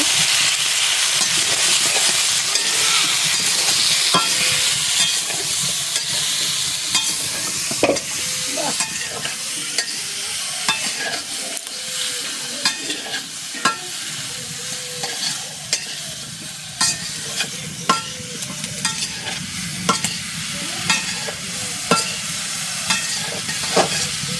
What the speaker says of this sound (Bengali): এখন সবজিগুলো দিয়ে দিব তো সব মশলা দিয়ে নিছে নেড়ে চেড়ে মিশিয়ে নিব